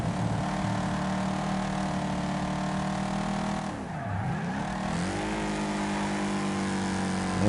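Race cars in the video game Wreckfest roar side by side in a tournament race, a loud, steady engine drone with harmonic whine, dipping briefly as revs drop on a shift, then climbing again.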